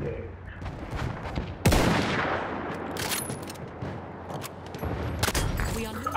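Gunfire in Battlefield 1 during an Operations battle: a heavy shot followed by a rumbling roll of echo, then further scattered cracks and distant shooting over a steady battlefield din.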